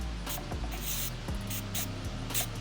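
LDL-2 industrial penetrating lubricant is sprayed through a thin extension tube in several short, close hissing bursts, separated by brief pauses.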